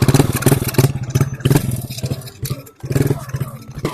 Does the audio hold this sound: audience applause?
no